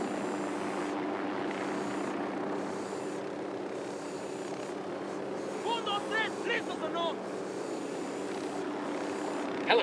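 A helicopter approaches in the Ghost Recon Wildlands video game, a steady, loud rotor-and-engine drone held throughout while voices talk over it.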